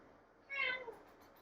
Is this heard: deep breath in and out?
no